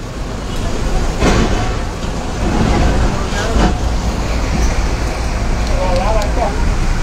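Passengers riding a crowded bus on the road, with a steady engine and road rumble throughout and people talking in the background.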